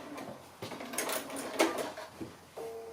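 A sewing machine runs a short back stitch through cork fabric: a few brief whirring bursts with light mechanical clicks, close and fairly quiet, then stopping.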